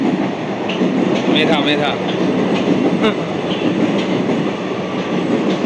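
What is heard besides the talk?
Kolkata metro train to Kavi Subhash passing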